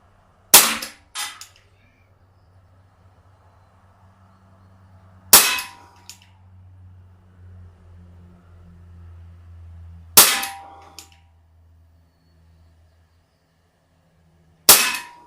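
A Crosman Vigilante CO2 pellet revolver fired four times, sharp snappy cracks spaced about five seconds apart, each alone against near silence with a faint low hum between shots.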